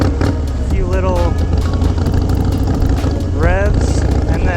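A Harley motorcycle engine revs in quick bursts at close range ahead of a wheelie, with someone talking over the rising and falling engine note.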